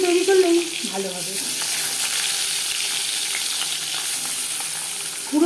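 Singhi fish frying in hot mustard oil, a steady close sizzle and crackle running throughout, with a brief stir or clatter near the start.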